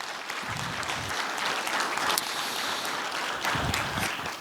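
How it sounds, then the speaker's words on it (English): A graduation audience breaks into sustained applause, a dense wash of many hands clapping throughout the room, steady and fairly loud, with a few brighter bursts and no speech over it. "Round of applause for everybody."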